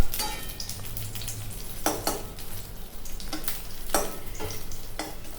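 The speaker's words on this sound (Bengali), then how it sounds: "আস্তে আস্তে বেগুনগুলোকে আমি কড়াই থেকে তুলে নেব।" Eggplant slices, fried red in hot oil, are lifted out of a wok while the oil keeps sizzling steadily, with a few sharp metal utensil clinks and scrapes against the pan, close and clear.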